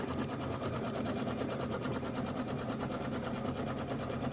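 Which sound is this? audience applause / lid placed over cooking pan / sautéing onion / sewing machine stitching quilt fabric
sewing machine stitching quilt fabric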